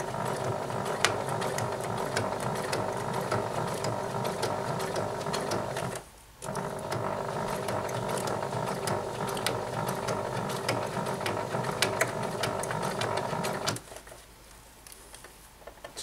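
A sewing machine stitches a patch onto a five panel hat with a steady, close mechanical whirr. It breaks off briefly partway through, starts again, then stops near the end and leaves quiet handling noises.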